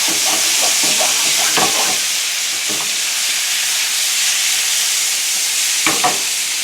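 Chicken meatballs sizzle in a pan over medium-high heat, giving a steady close frying hiss with a few scraping stirs and clinks scattered through.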